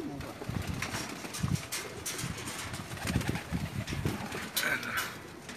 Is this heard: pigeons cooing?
yes